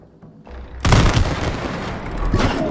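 A gunshot booms in the video game It Takes Two, a sudden loud blast that rumbles on with heavy low-end noise for a couple of seconds.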